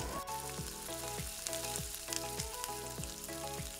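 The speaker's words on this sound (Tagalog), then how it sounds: "Gamit ang same na cooking oil, magsaute po tayo ng bawang." Garlic sizzles in reused cooking oil while pork lomi is being prepared, a continuous quiet frying hiss with a regular repeating low thump pattern running through it, faint and without voices.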